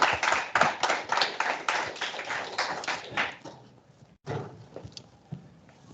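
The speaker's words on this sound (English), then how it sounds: "So let's give a last applause to Gabi" Audience at an academic talk series clapping after a speaker: a fairly small group claps in loose rhythm, fading out after about three seconds, then a few scattered claps and taps follow.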